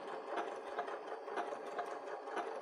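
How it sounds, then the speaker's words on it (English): A sewing machine runs steadily, stitching the fabric of an autumn fabric bucket with pumpkin applique, a continuous close whirring hum with faint rhythmic pulsing and no talk. "I'm going to drop my needle right where I want it to start, and then I'll lower my foot, do a locking stitch before I start"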